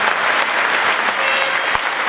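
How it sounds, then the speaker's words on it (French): An audience at a rally event applauds a motorsport figure with steady, dense clapping that stays level throughout, with no speech. "regardez, on peut l'applaudir Guy Fréquelin"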